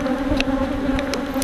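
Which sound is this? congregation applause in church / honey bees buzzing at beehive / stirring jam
honey bees buzzing at beehive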